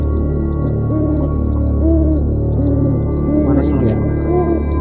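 An owl calls at night with a series of short, arching cries repeated several times, fairly close. A constant high-pitched whine runs underneath, and faint voices are heard.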